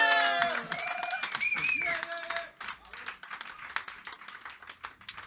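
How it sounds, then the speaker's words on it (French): Festival audience claps after a song, the applause starting under fading singing and lingering instrumental tones, then continuing as scattered, uneven clapping that thins out toward the end. "vous pouvez applaudir maintenant, c'est fini."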